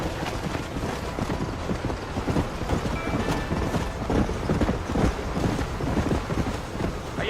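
In the Red Dead Redemption video game, a horse gallops with a steady, rapid drumming of hooves over a rumbling ground, continuous and fairly close throughout.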